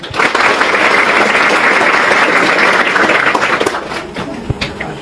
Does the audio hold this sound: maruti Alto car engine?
no